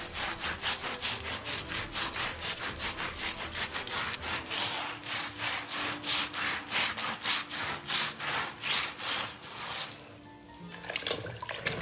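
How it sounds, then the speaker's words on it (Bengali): Hand scrubbing of household items clean, a steady rhythmic back-and-forth rasp repeating many times at close range, stopping briefly near the end before a few more strokes. "ঘষে ঘষে না তুললে সব রয়ে যাবে।"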